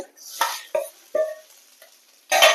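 Eggplant slices frying in a pan with salt and turmeric, heard as a few separate bursts of sizzling and stirring with short pauses between, close and fairly loud, with no voices.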